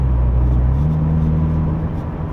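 A 2023 MINI Clubman JCW F54 accelerates in sport mode, giving a loud, steady engine drone heard from inside the car, with the pitch climbing slightly partway through.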